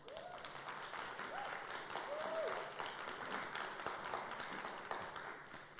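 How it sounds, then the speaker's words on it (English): A room full of people applauds election candidates at a student union debate, a dense wash of clapping that holds at even loudness, with a few faint voices rising above it. "A round of applause for our candidates."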